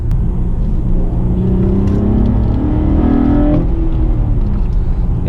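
Acura fourth-generation TL with an aftermarket intake revving, a loud close engine rumble rising in pitch through a rev and easing back, with intake whir throughout.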